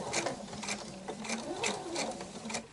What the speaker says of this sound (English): this electronic machine drops multiple stitches at once